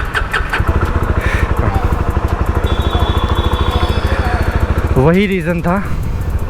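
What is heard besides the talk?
Jawa 42 FJ 350 motorcycle exhaust note after cold start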